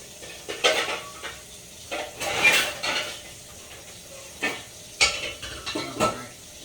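Dishes being cleaned up at a kitchen sink: scattered clinks and clatters of pots, plates and cutlery with splashy washing sounds, close and moderately quiet, no talk.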